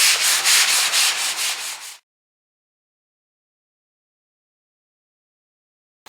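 Hand sanding on a damaged car body panel during collision repair: quick rhythmic rasping strokes, about eight close scrubs in two seconds, then sudden silence with a brief scrape right at the end.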